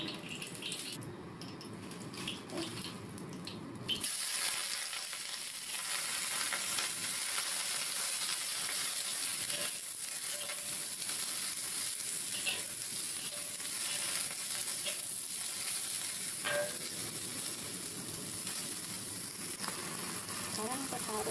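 Chinese cabbage stir-fried in a pan, a steady soft sizzle with occasional stirring scrapes, close but fairly quiet.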